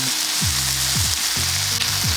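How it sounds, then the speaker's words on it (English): Peppers frying in a pan while being cooked down until soft, a steady close, loud sizzle with repeated scraping stirs cutting through every half second or so. "Continue to cook until the peppers go quite soft"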